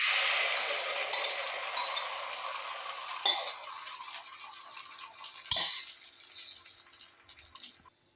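Steady frying sizzle as kalakki egg mix goes into hot oil for a roadside-style dish, loud at first and gradually easing, with a sharp burst of crackle partway through before settling to a softer hiss.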